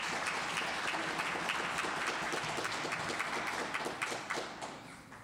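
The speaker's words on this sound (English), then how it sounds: "Please join me in a warm round of applause." Warm round of applause from an audience at a City Club holiday music event, dense steady clapping heard from a moderate distance that fades out over the last second.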